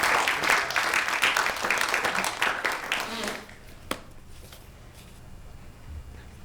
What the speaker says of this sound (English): let's clap it one more time, y'all